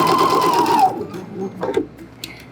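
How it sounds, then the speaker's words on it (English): Sewing machine stitching a set-in sleeve, a close, fast mechanical whir that runs for about a second and then stops, followed by a few soft handling sounds. "Now when I'm sewing, I also like to sew with the sleeve part facing me"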